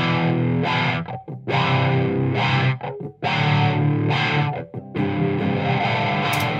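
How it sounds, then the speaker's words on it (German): Distorted electric guitar through a wah-wah effect plays choppy phrases in a mix being processed with a channel strip, loud and close, with short gaps between bursts. "das passt auch zu dem Wawa-Sound ganz gut"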